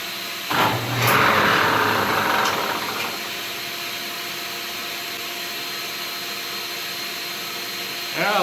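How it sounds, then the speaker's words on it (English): A vacuum cleaner whirs to life with a rising whine, runs loudly for a couple of seconds, then drops to a steady droning hum. "I got to get the vacuum cleaner on as well"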